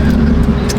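Stock BMW M3 CS (G80) engine pulling hard under acceleration, a loud continuous low roar heard from inside the car for under a second.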